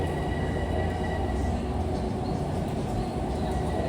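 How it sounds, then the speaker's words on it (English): Long Island Rail Road Oyster Bay train arriving at Jamaica station during evening rush hour, a continuous low rumble and rolling rail noise with faint squeals, loud and steady without talk. "This is the Oyster Bay train arriving at track 8."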